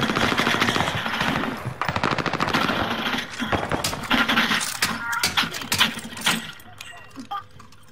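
Rapid automatic gunfire from a video game set in Caldera, loud bursts rattling through most of the stretch with short gaps, voices chatting over the shooting.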